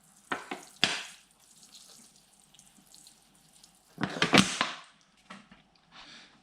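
Water splashes over moss set in a bonsai pot, two quick sprays early on, then a longer gush and a few softer splashes, close and clear.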